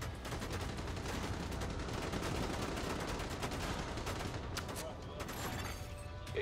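The Nemesis gun fires in a video game with a steady, rapid burst of automatic gunfire that continues almost without pause, fairly loud and dense, with a few sharper shots toward the end.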